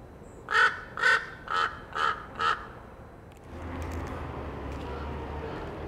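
A crow near an alleyway gives five loud, evenly spaced caws, then falls silent as a low rumble of outdoor background noise rises.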